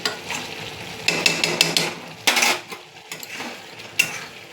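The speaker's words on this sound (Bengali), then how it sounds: "আর নামানোর আগে একটু ঘি দিয়ে নিলাম" Ghee goes into a finished prawn and egg curry, bringing an irregular crackling sizzle with scraping and clattering as the pan is stirred, loud and close in uneven bursts.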